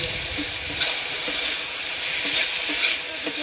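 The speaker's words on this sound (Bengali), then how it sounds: "এই তেলেই পেঁয়াজ কটা আমি ভেজে নেবো" Onions fry in hot oil in a pot, a continuous loud hissing sizzle with faint stirring clicks and no voices.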